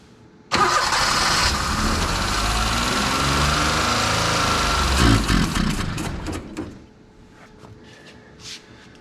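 A minitruck's engine cranks loudly and steadily for about five seconds without catching, with the starter churning and fuel apparently not reaching the carburetor, then it winds down into a quieter tail with faint clicks.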